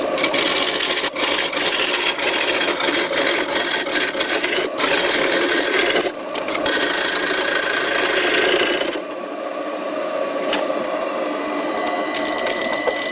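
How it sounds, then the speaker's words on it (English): Wood lathe spinning at about 800 RPM while a homemade bowl gouge cuts a wooden bowl, giving a continuous rough scraping rasp with short catches, then a quieter, smoother cut in the last few seconds. "The lathe is running about"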